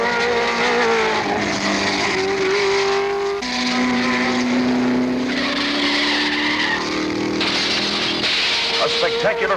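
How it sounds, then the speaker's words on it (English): An MGB race car, number 60, skids and flips after throwing a tire during the Sebring endurance race, with loud tire squeals and engine noise among other race cars while a commentator talks over it. "Spectacular flip by the number 60 MGB. The car threw a tire"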